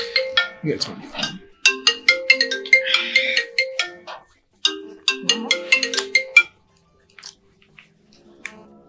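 A phone ringtone plays a bright, looping electronic melody in repeated phrases, then stops, leaving near silence with a few faint clicks.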